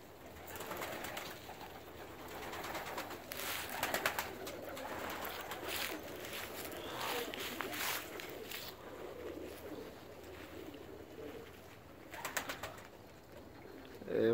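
Pigeons cooing in a loft on a cold January morning, soft throaty coos repeating steadily over a low background murmur, with occasional rustling and wing sounds nearby.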